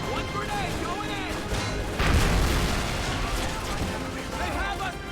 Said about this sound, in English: One grenade going in!